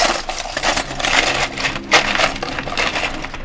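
Small parts rattle and clatter inside a homemade noise shaker box: a continuous, dense, gritty rattle with uneven surges and one sharper crunch partway through, loud and close with no voices.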